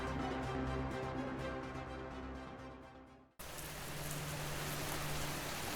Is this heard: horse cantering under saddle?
no